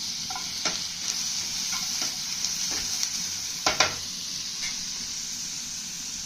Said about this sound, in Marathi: टोमॅटो घालून दोन मिनिटं परतून द्यायचं